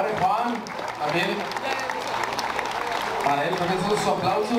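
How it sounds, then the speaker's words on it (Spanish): Applause from a crowd at a dance with Los Banda Jr de Salamanca, brisk clapping mixed with shouting voices and crowd noise, fairly loud and continuous. "para él, también son sus aplausos"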